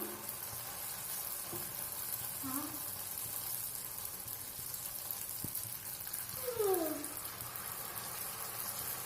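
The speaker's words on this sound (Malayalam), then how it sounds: "നമുക്ക് പഴം പൊരിക്കാൻ വേണ്ടി പഴം ഇട്ട് കൊടുക്കാം ഇതിലേക്ക് മുക്കിയിട്ട്" Nendran banana slices dipped in batter fry in hot oil as fritters, giving a faint, steady sizzle with a couple of soft utensil clicks in a quiet kitchen.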